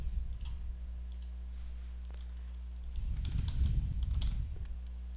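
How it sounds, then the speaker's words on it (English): Someone types on a computer keyboard in a quiet room. The clicks are faint and fast, growing busier and louder over the last few seconds above a steady low hum. "Notice when I start typing registration"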